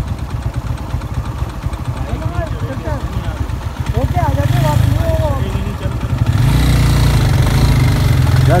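A motorcycle stuck in soft desert sand in Balochistan drones loudly and close, its engine pulsing and surging as it revs harder partway through, while people talk over it.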